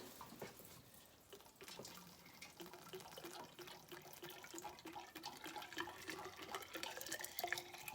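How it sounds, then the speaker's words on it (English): Warm water poured from a kettle runs through a heater line on a 2002 Dodge Ram 1500, a steady trickling and gurgling flow with small drips and splashes, fairly faint and close, no talking. "I'm just taking the kettle and I'm just filling it up."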